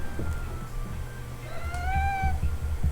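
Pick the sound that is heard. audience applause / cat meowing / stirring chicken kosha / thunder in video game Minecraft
cat meowing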